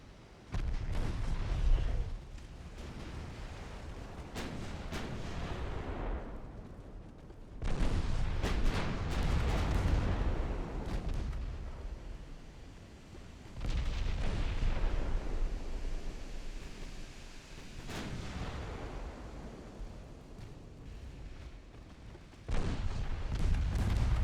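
Battleship naval gunfire in Ultimate Admiral Dreadnoughts, deep booming salvos arriving in several long heavy waves, each rolling and slowly fading, with quieter gaps between them.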